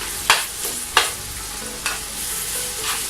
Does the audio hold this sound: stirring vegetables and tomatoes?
yes